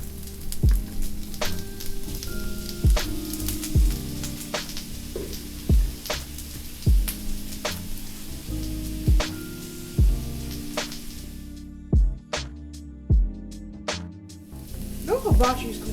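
Shrimp sizzling on a hibachi flat top, a steady frying hiss broken by repeated sharp metallic spatula clicks and scrapes, close and fairly loud, ending with a short quieter stretch.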